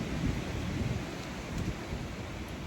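Strong wind gusting with rain beginning to fall outside a parked camper van in the Snowdonia countryside, a steady broadband roar and buffeting that stays loud and continuous throughout, with no speech.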